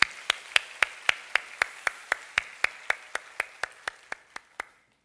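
A church congregation claps together in unison, a crisp, regular beat of around eighteen loud claps at a steady tempo that stops cleanly, leaving the room silent.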